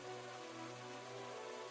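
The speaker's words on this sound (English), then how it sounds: "Hey, hold on. This isn't normal rain. It's black rain." Steady patter of black rain thick with falling ash, a dense continuous hiss of drops striking surfaces throughout, with a low hum underneath and no voices.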